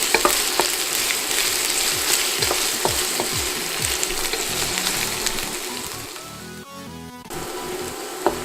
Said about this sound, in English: we're going to fry this for a few minutes till they go lightly brown